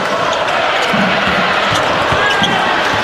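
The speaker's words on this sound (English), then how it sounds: "you can hear the chants of "Let's Go Boilers" in the background" Loud crowd noise at Matthew Knight Arena during a Purdue vs Oregon college basketball game, with a rhythmic mass chant of "Let's Go Boilers" underneath, basketball bounces and sneaker squeaks mixed in.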